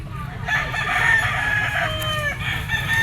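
A White Kelso gamefowl rooster crows loudly and near, one drawn-out crow with an outdoor background murmur underneath.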